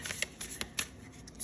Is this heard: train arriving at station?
no